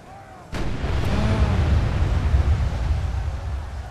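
Cannons in the Medieval 2 Call of Warhammer mod, Empire campaign, fire as one loud booming blast that opens into a long rolling rumble of explosions and battle din.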